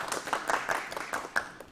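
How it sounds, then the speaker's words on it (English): A small group claps in scattered, uneven bursts for honoured guests on a televised programme, fairly faint and brief. "You can have a round of applause for them."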